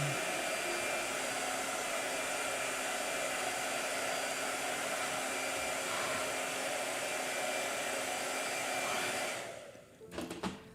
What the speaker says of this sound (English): and then he's going to blow dry.